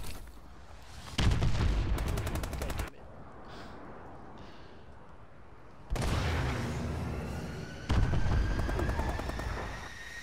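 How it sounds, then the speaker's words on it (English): Enemy missile strikes in the Call of Duty: Advanced Warfare multiplayer game: loud booming blasts with rapid gunfire crackle come in two heavy waves, separated by a duller rumbling lull. "Enemy missile strikes."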